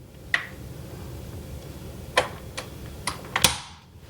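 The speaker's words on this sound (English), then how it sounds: "I guess you just open this up until it stops. Then you click it in" A lube cube lid is clicked into place, heard as a few sharp, close plastic clicks and snaps spaced over a few seconds against a quiet background hum.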